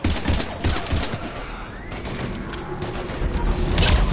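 Gunfire in the sci-fi shooter Mass Effect 3 crackles in dense, rapid bursts that build into a sustained fusillade with booming impacts.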